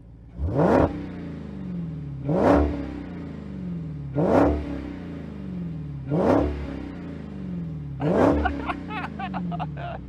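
A Dodge Demon muscle car engine revs hard five times in a row, each sharp rise in pitch dropping back to a rumbling idle, close and loud.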